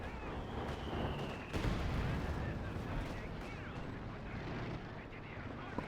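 Heavy artillery barrage in a tank strategy game, a sustained rumble of booming detonations and distant gunfire, with one louder blast standing out early before the roar gradually settles.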